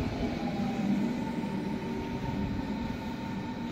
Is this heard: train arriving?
yes